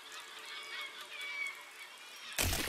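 Birds in the physics-building game Besiege give honking, goose-like calls over a constant layer of noise, ending in a sudden loud burst of crashing.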